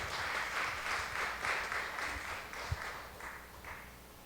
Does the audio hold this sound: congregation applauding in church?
yes